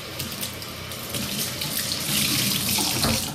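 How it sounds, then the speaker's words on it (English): Water runs steadily from a tap into a sink, a close, continuous rushing splash that swells slightly louder toward the end, with no voices. "You hear the water again here for a second."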